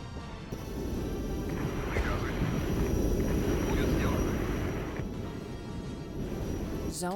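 Helicopters in the strategy game Regiments fly over toward enemy artillery, a steady broad rotor and engine drone holding at moderate level for several seconds beneath a busy battle mix.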